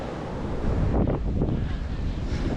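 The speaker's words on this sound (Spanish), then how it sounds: "Ya me acaba de llegar una ola bastante fuerte" Ocean waves breaking on a beach at Cancun, a loud continuous roar of surf and wash with wind buffeting the microphone, no talk.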